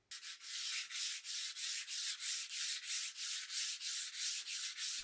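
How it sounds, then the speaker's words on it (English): Sandpaper rubbing rust pits off the barrel of an old Marlin 1881 lever-action rifle. Steady, rhythmic back-and-forth strokes, about three per second, close and clear with no voices. "On the barrel instead, I was able to get most of the damage sanded out."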